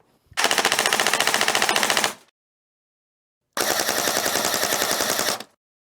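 Solink airsoft SR25 rifle with a helical gearset and brushless motor firing two sustained full-auto bursts of roughly two seconds each, a rapid, even mechanical chatter up close with a pause between bursts and no talk.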